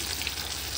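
Fenugreek leaves and green chilies frying in a pan, a brief, dense and steady sizzle heard up close without talk.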